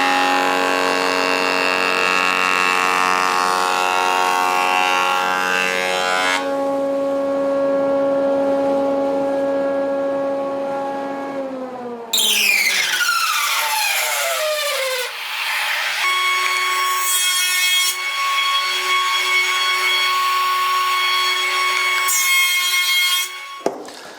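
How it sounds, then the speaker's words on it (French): An oak board is face-jointed, then run through a thickness planer; steady, loud machine whine with strong tonal hum, a cutterhead spinning down midway, then a second machine starting up and running at a different pitch, with no talking. "je dégauchis cette pièce sur une face. Je la rabote ensuite pour en obtenir l'épaisseur souhaitée"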